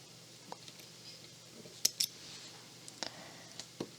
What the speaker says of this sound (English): pull my thread through and just cut my thread